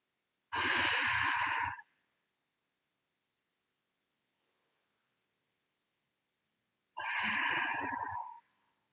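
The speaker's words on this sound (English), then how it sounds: "Take 3 deep breaths." Two long, deep exhalations, like sighs, during child's pose in a gentle yoga class. They are spaced several seconds apart with near silence between them.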